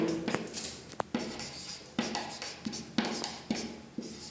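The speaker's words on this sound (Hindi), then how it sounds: "नोट करके लिखते हैं" Handwritten notes for a class 10 physics lesson on reflection of light, pen or chalk strokes in short scratchy bursts with brief pauses, close and clear, with no voice.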